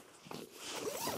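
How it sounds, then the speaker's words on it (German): The upper zipper of a Callida bivy tent is pulled open in a few short rasping strokes, close by and quiet, with no speech. "Ich mache jetzt hier den oberen Reißverschluss auf"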